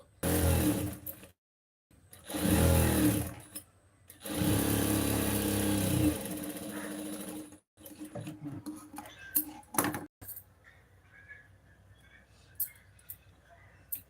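A sewing machine stitching a saree blouse piece and its lining runs in three separate bursts of steady whirring, then stops and gives way to light clattering and handling noises.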